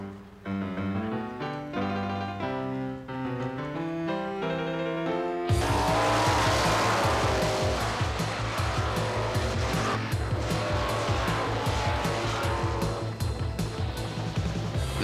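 Stock cars racing at Sears Point International Raceway in Sonoma, California, on the Winston Cup tour. Piano music plays first, then loud roaring engines and squealing tires take over and continue steadily.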